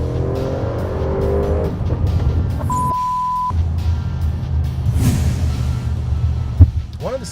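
An Audi RS7 accelerating hard on the road, its engine rising in pitch through the gears with a loud, sustained roar and a brief shift gap partway through.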